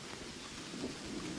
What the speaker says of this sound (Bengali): হ্যাঁ, বৃষ্টিটা তো বেড়েছে।